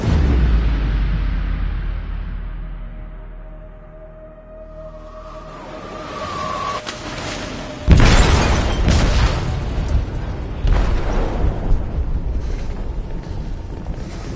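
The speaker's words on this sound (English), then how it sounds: "They detonated an explosive in the hold." An explosive detonates in a ship's hold in Detroit: Become Human, a low rumble and rising tone building toward a heavy boom, followed by a sustained roar with crashing bursts and debris.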